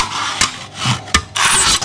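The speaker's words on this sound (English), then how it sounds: "We're just going to make an incision here." A knife cutting into an aluminium Coke can, giving short close rasping scrapes and a couple of sharp clicks in quick succession, with no talk.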